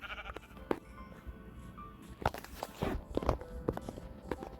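A sheep in a video game bleats in short, fairly faint calls amid footstep-like shuffling and scattered clicks, with no talk over it.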